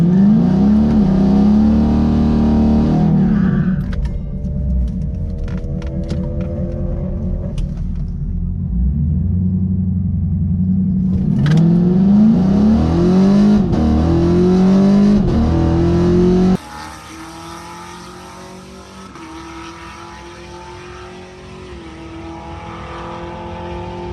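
Drag racing cars at Orlando Speed World accelerate hard down the strip, loud engines climbing through repeated rising revs and gear changes, with a second car passing nearby and a quieter rumble after it moves away.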